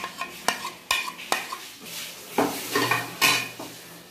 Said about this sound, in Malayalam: അപ്പം നമ്മൾ എല്ലാ പൊടി ഇട്ടിട്ട് ഇളക്കിയിരിക്കുകയാണ്.